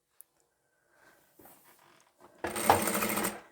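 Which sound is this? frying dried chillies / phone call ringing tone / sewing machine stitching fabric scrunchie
sewing machine stitching fabric scrunchie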